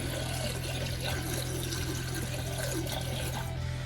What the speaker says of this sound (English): I'll take and pour about a half of one of these down each drain.